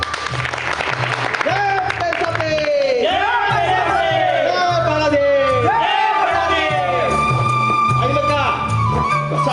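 Villagers at a village festival in Kotur clap and cheer together, a dense, loud burst of applause mixed with whoops and shouted calls, while voices ring out over the crowd.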